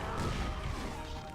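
A grenade explosion in the video game Doom, a dense, loud, booming crash that fills the moment and rumbles heavily throughout.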